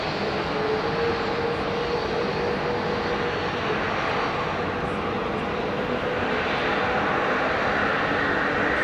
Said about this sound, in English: the sights and sounds of London Heathrow, ladies and gentlemen